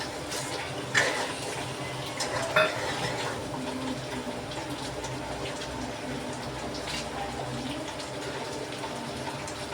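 Onions and chilies being stirred into a simmering paneer tikka masala gravy in a pan, with wet stirring and a few metallic utensil clinks over steady low kitchen noise.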